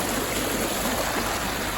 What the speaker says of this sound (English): Not too deep, just a little creek.